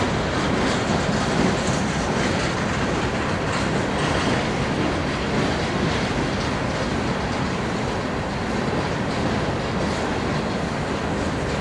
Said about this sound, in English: I bet this intermodal will start moving any minute after this coal passes by.